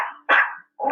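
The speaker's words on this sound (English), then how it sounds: "Whole bunch of little barking, little chihuahua." A little chihuahua barking: three short, sharp yaps close by, each separated by a brief silence.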